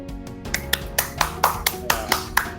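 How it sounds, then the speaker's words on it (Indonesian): Scattered, uneven claps from a small classroom group during a peer-teaching math lesson, a dozen or so sharp hand claps spread over a couple of seconds against a background of voices. "Mari kita berikan tepuk tangan."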